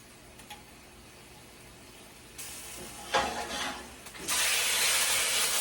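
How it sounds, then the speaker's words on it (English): Chicken pieces for tacos, still partly frozen, sizzle in a hot pan, first in short bursts and then in a loud, steady hiss that fills the last seconds. "here's the sizzle"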